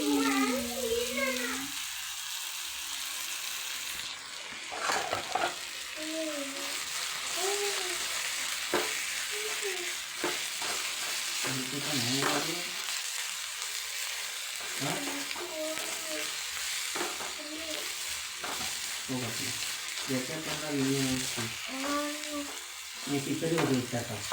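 Chili powder frying in hot oil for a potato dish, a steady sizzle running throughout beneath someone talking.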